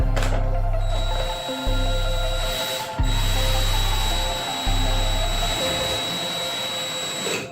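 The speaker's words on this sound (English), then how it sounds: "you just have to kind of put the screw in and then hope you get it right into the joist" A power tool drives a screw into a wooden joist in bursts. Four or five loud, close motor whirs start and stop in a stuttering rhythm, and a steady high whine runs underneath.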